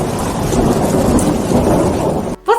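Heavy rain pours steadily with deep rumbling thunder rolling underneath, loud and continuous, then cuts off abruptly near the end as a brief voice begins.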